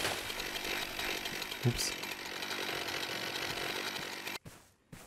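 A chainsaw in a forestry simulation video game drones steadily and loudly while delimbing a felled tree, with one sharp knock partway through, then cuts off abruptly and leaves near silence.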